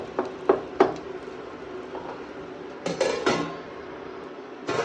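Pots and utensils clink in a kitchen where a pan of tuna thoran is being cooked, with a few sharp metallic knocks early on and a louder clatter near the end as the lid is set in place, no talking.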